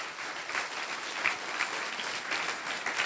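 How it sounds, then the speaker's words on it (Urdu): A church congregation claps for God at a New Year service, a steady moderate wash of many hands with occasional sharper individual claps, continuous and unaccompanied by speech. "آئیں خدا کے لیے زور تالیاں بجائیں گے جی"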